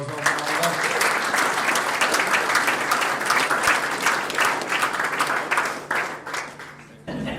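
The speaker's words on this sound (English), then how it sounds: "can we give Oliver Dingwall a big round of applause?" An awards-night audience gives a full round of applause, a thick wash of many hands clapping that holds steady and then tapers off near the end.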